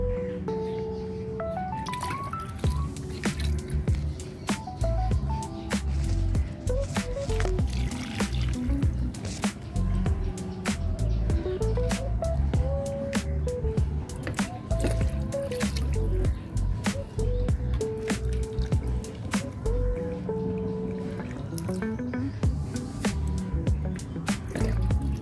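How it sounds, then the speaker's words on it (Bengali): Water poured generously into the soil of a newly repotted lemon tree in a pot, a steady close trickle with drips and squishing, heard under continuous background music. "বেশি করে জল দিয়ে দিচ্ছি যাতে টবের মাটির নিচ পর্যন্ত, মানে টবের নিচ পর্যন্ত জলটা যেতে পারে।"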